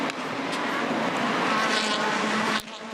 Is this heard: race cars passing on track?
yes